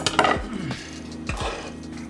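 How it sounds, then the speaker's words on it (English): Kitchen knife slicing through a row of lined-up asparagus spears on a cutting board, two sharp close chops about a second apart with a short scrape between them. "you can take a knife after you've snapped one, pretty much line them up and cut it"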